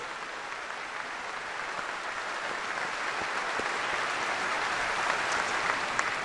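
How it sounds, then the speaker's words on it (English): A crowd at a National Rifle Association address breaks into sustained applause, a dense steady wash of clapping that swells slightly toward the end, with no speech over it. "So give yourselves a round of applause for all you do for the ideals we cherish."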